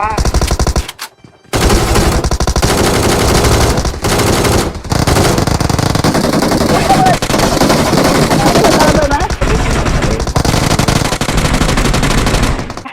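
Automatic and single-shot gunfire crackles almost without a break in PUBG Mobile on the Erangel map, loud and dense, with a brief silent gap near the start. Game sounds and possible voice chatter blend underneath.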